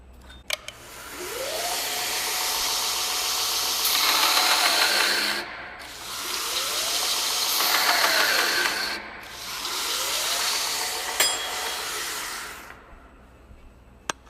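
A homemade grinder driven by a 1.5 horsepower motor, heard in three loud, close grinding passes that each run a few seconds with a harsh abrasive roar and a falling whine, separated by brief quieter gaps.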